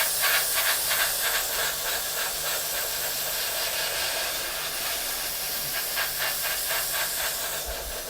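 Airbrush spraying polished aluminium metal paint: a steady, close, airy hiss with faint pulsing, running continuously with no talking.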